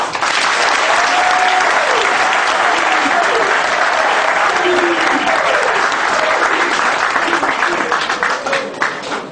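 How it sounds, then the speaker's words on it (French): Loud, sustained applause from a large crowd at a Congolese opposition party (UPADS) political ceremony, steady throughout with voices mixed in and tapering slightly at the end. "que je vous demande d'applaudir très fort."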